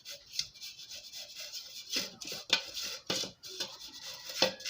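Cake pan being creamed with oil, close rubbing and scraping strokes against the metal in an uneven rhythm, with no talk.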